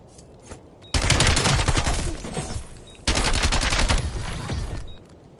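Two long bursts of rapid automatic gunfire in Black Ops 7 Search and Destroy on PS5, loud and close, separated by a brief lull.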